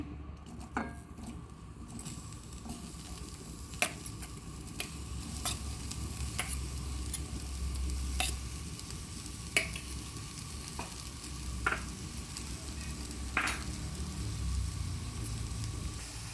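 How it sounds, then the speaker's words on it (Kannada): Finely chopped onions fry with cumin seeds in a pan, giving a steady, quiet sizzle throughout with occasional light stirring clicks of a spoon against the pan. "ಈಗ ಈರುಳ್ಳಿ ಒಂದು 3ರಿಂದ 4 ನಿಮಿಷ ಚೆನ್ನಾಗಿ ಫ್ರೈ ಆಗಿದೆ"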